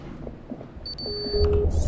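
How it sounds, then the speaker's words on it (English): Electronic warning beeps from a spacesuit's carbon dioxide alarm in the space game Ostranauts, a few thin tones sounding over low game ambience and quiet background noise. "That beeping is the carbon dioxide buildup in my suit."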